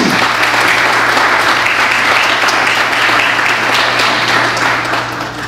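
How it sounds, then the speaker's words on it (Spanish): Sustained audience applause after a lecture introduction on Córdoba and Cuban education, a dense, even wash of many hands clapping at once, loud and continuous throughout, tapering slightly at the end. "Esos aplausos se lo merece el presentador"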